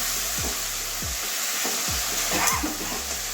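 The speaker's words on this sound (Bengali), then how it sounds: "মশলাটা কষানো হয়ে গেছে আমার অনেকটাই মশলা থেকে তেল ছাড়ছে আর একটু কষাবো" Spice paste frying in hot oil in a pan, with a loud, steady sizzle throughout and regular low scraping strokes as it is stirred, close and without talk.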